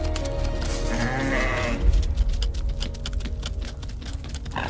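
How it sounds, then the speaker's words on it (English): Wild bighorn sheep bleating amid a struggle for territory and dominance, a few nasal calls over a rumbling, thudding background that grows louder midway. "the bighorn sheep begin a battle, a struggle for territory and dominance featuring these majestic warriors"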